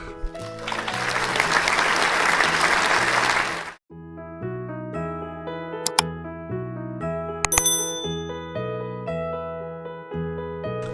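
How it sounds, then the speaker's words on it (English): In a Peppa Pig cartoon, a burst of crowd applause for Daddy Pig roars for a few seconds, then cuts off abruptly into a bright, bouncy tune of chiming, bell-like notes with a couple of sharp high pings. "Let's clap, clap, clap for Daddy Pig"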